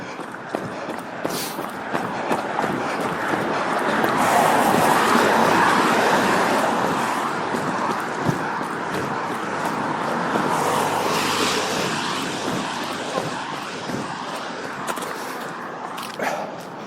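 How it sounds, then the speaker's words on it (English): Road traffic flows past steadily, a broad continuous roar that swells in the middle and eases off, with occasional thumps and distant dog barks mixed in. "it's a good gap in the traffic."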